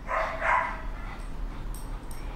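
Small female dog in a shelter kennel giving two short yips close by, followed by quieter whimpering over a steady background hum.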